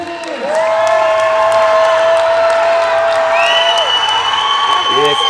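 Steady crowd applause and cheering fill a large hall at a world classic powerlifting championship, with a loud whistling tone and voices over the continuous clapping.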